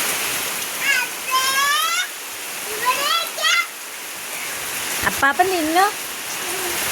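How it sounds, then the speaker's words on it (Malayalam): Heavy morning rain pours steadily as a broadband wash over a garden at a family home, with people talking intermittently over it. "ഇങ്ങോട്ട് രാവിലെ നല്ല പെരും മഴയാട്ടോ, നല്ല അടിപൊളി മഴ."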